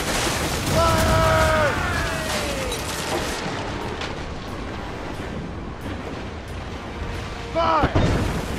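Cannon broadside roaring across a sea battle in Assassin's Creed Rogue, a dense rumbling barrage of booms with shouted voices over it and a fresh burst of blasts near the end.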